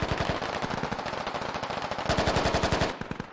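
Automatic weapon fire in the video game Squad, rapid sustained bursts of sharp, evenly spaced shots in two long strings with a brief lull between.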